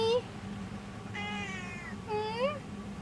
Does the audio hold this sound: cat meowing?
yes